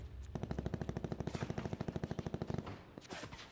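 Rapid automatic gunfire from a Call of Duty Blackout match, a loud sustained burst of evenly spaced shots lasting about two seconds, followed by a few scattered trailing shots.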